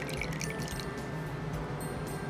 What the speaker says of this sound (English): we're going to put hot water in the measuring cup to pour into the bowl